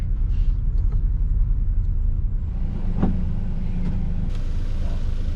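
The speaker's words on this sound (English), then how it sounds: "Lots of traffic." Steady road traffic rumbles nearby in Bordeaux, a continuous low roar of passing cars and heavier vehicles with faint swishes rising and falling, no voices over it.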